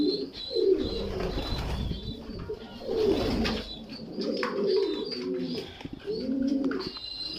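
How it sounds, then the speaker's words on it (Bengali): Pigeons cooing close by as they are fed, several low rolling coos repeating in overlapping phrases with faint chirps and a wing flutter in the background. "কিছু কবুতর আমার ছেলের কাছে এসে খাবার খাইতেছে।"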